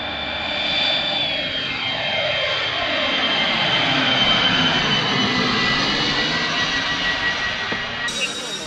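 Radio-controlled F-14 model jet flying past, a loud whooshing jet roar that rises and swells as it approaches, sweeping in pitch as it passes overhead and recedes, steady and continuous.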